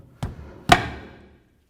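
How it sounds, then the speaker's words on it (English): Two hard blows land against a stuck rear wheel on a 2005-2016 Toyota RAV4, the second louder and ringing briefly, struck close by with a pause between. "you can try just kind of pounding around the wheel"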